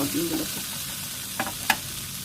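Fried pointed gourd sautéed in spices with tomato in a pan, a soft sizzle with a couple of sharp stirring clinks near the end and a brief faint voice at the start.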